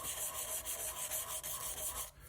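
Steady back-and-forth sanding of a resin "Water Nymph" lava lamp pen blank with sandpaper, a close, continuous raspy rubbing in even rhythmic strokes that stops abruptly near the end.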